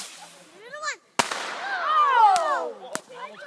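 Fireworks going off outdoors near a tree: a sharp pop and several crackling bursts with whistling, descending tones, fairly close, with voices talking around them.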